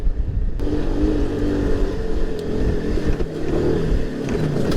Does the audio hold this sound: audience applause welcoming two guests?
no